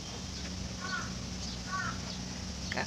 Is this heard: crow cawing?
yes